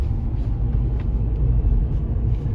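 A Skoda Kushaq 1.5 TSI engine runs at around 1500 RPM in two-cylinder mode, a low steady rumble heard from inside the car without talk.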